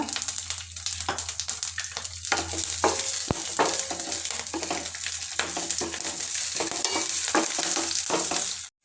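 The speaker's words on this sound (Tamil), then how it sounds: "பூண்டு பருப்புகள் எல்லாம் நல்லா பொரிஞ்சதுக்கப்புறம்" Peeled garlic cloves fry in oil with asafoetida for a Tamil radish curry, giving a steady close sizzle with frequent crackles and spoon scrapes against the pan, and no talking.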